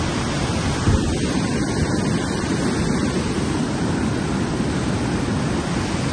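A rushing mountain river beside a trekking trail on the North Annapurna Base Camp route, a dense, steady roar of water with no talking.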